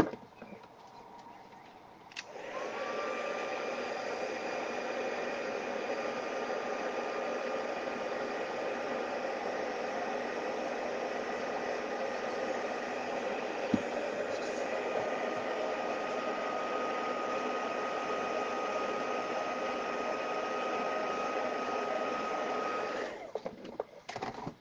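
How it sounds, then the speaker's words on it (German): A hair dryer switches on and blows a steady, loud, continuous whoosh for about twenty seconds, heating white embossing powder on a papercraft mini album, then cuts off at the end. "eingestreut mit dem Embossing-Pulver in Weiß und einmal kurz den Föhn"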